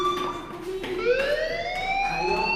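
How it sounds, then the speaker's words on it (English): Electronic fire alarm sounding inside the video game Life is Strange, a rising, sweeping tone that climbs steadily over a couple of seconds, loud and continuous with faint background ambience. "Hey, do you hear that fire alarm?"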